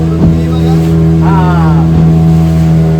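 Steady engine hum from a boat out at sea off Tarkali, a continuous low drone with a few brief voices or sounds rising over it.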